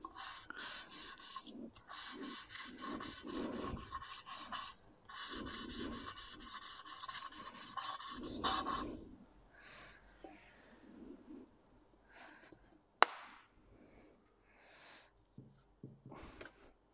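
Cylinder head from a Saab B204 engine being ground flat, a steady rasping scrape in repeated strokes for about nine seconds, then quieter intermittent scraping with a sharp click near the end.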